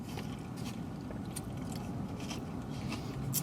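Crunchy biting and chewing of a Sonic bacon ranch queso wrap with a crunchy outside and potato filling, close up, with steady crackling bites and no talking.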